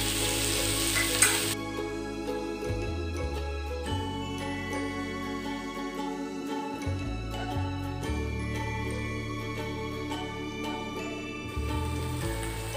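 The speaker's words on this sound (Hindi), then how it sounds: "प्याज और कैप्सिकम को इतना ही फ्राई करना है, ज़्यादा नहीं।" Onion and capsicum fry in refined oil with turmeric and a little salt for a mushroom chilli babycorn dish, a steady close sizzle under layered background music with a few soft utensil taps.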